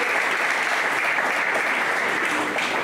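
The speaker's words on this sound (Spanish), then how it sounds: "Si es así, dale palmas al Rey, por favor, apláudele fuerte." A church congregation claps loudly and steadily in a sustained round of applause that fills the room for several seconds.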